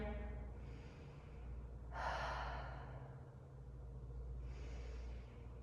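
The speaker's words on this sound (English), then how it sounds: "Take a few belly breaths here again." Slow, deep belly breaths during an abs workout, with two or three soft airy inhale and exhale swells over a quiet, low background hum.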